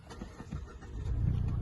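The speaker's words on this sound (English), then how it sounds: "Car comes into life" A Mazda CX-30 with a 2.0 Skyactiv-G mild-hybrid petrol engine starts up via push button, a brief crank giving way to a low, steady idle rumble that swells and holds, heard up close with no talking.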